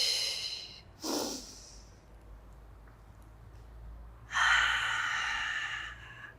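Two vocalized exhaling breaths during an intermediate Pilates workout with a magic circle, a short sharp huff followed by a longer, louder breathy exhale, close and clear with quiet room tone between.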